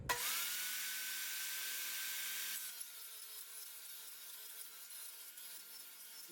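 A wooden board being cut for an ice fishing rod holder, a steady buzzing power-saw drone that shifts partway through and continues more softly, with no talk.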